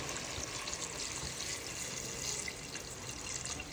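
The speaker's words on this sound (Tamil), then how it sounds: "தண்ணி ஊற்றிக்கலாம்." Water is poured into chicken curry in a pot, a soft continuous splashing and trickling, quiet and steady throughout with no speech.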